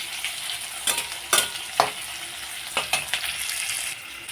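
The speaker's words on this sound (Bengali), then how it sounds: "তো আমি একটু ভাজা ভাজা করে নিব।" Potatoes frying in oil with onions already browned, for a Bengali egg curry; a steady sizzle runs throughout with a few sharp scrapes and clatters of stirring, close and moderately loud, no talk.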